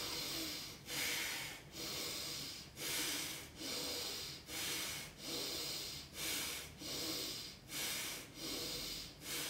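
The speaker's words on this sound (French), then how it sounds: "on expire activement" Forceful, rhythmic exhalations in a morning beginner yoga breathing exercise, about ten quick snort-like breaths at an even pace, close and fairly loud with no talk.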